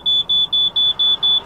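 An alarm sounds inside a parked camper van that is switched off: six loud, evenly spaced high-pitched beeps repeat steadily over a low background hiss.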